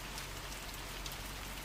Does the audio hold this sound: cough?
no